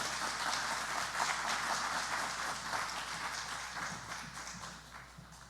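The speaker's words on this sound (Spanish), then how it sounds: "yo quisiera que animáramos a mi Abelito, por favor, con un aplauso para él" A church congregation gives a steady, fairly distant applause, a dense patter of many hands clapping that fades slightly toward the end, with no voices over it.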